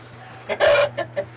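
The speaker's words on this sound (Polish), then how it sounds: "No co, kury nakarmione." A hen clucks close by on a poultry farm, one louder drawn-out squawk followed by a few short clucks, over a low steady background hum.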